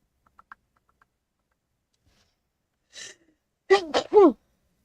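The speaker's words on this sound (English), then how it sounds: "Oh, I'm gonna sneeze." A single sharp sneeze bursts out close to the microphone, with a short intake of breath just before it, in an otherwise quiet room during a casual livestream chat.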